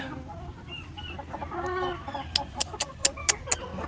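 Laying hens cluck softly on a farm, a few low calls followed by a run of sharper, closer clucks in quick succession.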